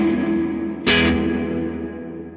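A guitar run through an effects unit strikes one loud chord partway in, then rings out in a very long, slowly fading reverb tail that fills the rest of the moment.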